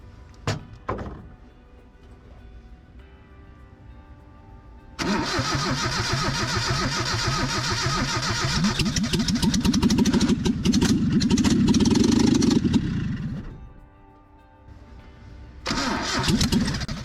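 An old 4x4 truck engine with no exhaust, gas tank or radiator cranks and catches, then runs loud and rough for several seconds before cutting out, with a brief restart near the end and a thunk at the start.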